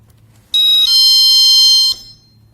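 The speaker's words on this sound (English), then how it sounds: "You activate it, and then you slide it to Chime" A GE personal security window and door alarm set to chime gives one loud, piercing electronic tone lasting about a second and a half, which cuts off abruptly and leaves a brief ringing tail in a quiet room.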